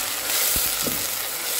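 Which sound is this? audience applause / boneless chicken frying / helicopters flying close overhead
boneless chicken frying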